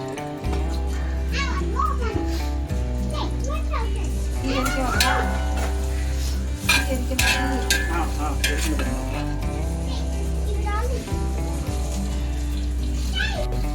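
Onions sizzle and fry steadily in oil, about 1.5 kg, for chicken dum biryani while a spoon stirs and scrapes the pan, with children's voices and talk mixed in throughout.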